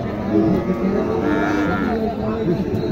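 A local desi cow moos in a long, low, close call at a busy cattle market in Naogaon, with crowd chatter and voices around it.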